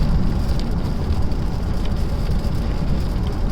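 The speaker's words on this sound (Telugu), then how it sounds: "మేము దర్శనం చేసుకుని బయటికి రాగానే వర్షం అయితే స్టార్ట్ అయిపోయింది" Steady rain falls outside a temple, a dense, even wash of close patter with no voices over it.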